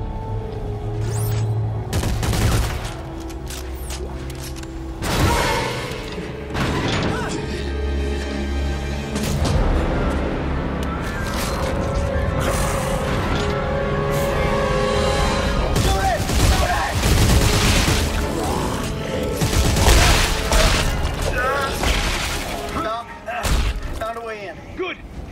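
Gunfire from the Dead Space 3 video game in co-op play, with repeated loud shots and thuds scattered through a dense soundtrack, while players talk over the action.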